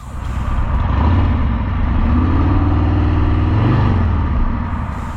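A Harley-Davidson Hydra Glide Revival motorcycle engine pulls hard in a loud, steady rumble, its pitch climbing and dipping as it accelerates, close by with no voices.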